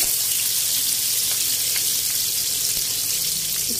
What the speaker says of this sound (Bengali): এখন আমি একটু নেড়ে চেড়ে নিচ্ছি ভেজে নিচ্ছি